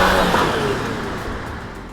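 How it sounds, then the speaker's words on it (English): A CUPRA Leon pulls away hard under launch control, its engine note loud and close at first, then easing slightly as the car draws away over two seconds, with no talk. "When launch control is activated, the vehicle's onboard computer will assist the driver to accelerate with maximum traction and power."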